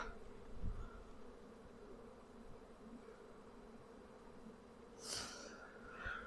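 A low, steady drone of honey bees buzzing in a hive during a spring inspection hums throughout, with a few brief louder rustles and clicks near the end.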